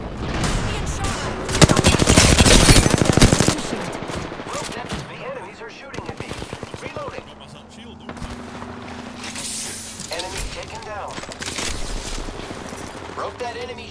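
Automatic weapon fire in an Apex Legends Arenas match: a loud, rapid burst of close gunfire, then scattered shots and rattling bursts at lower level, with a voice talking over the fight.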